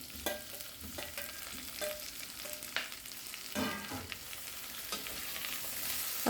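Ripe tomatoes dropped into a frying pan for tomato chutney hiss into a low sizzle, with scattered clinks and scrapes of a spoon stirring, close and alone without speech.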